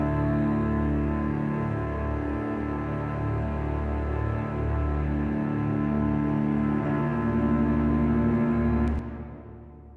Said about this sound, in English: my actual cello parts with the plug-in strings,